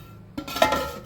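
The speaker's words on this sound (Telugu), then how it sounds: "మూత పెట్టేసుకుందాం." A lid is set on a cooking pot of simmering bitter gourd tamarind stew, giving a single soft metallic clink and scrape, quiet and close.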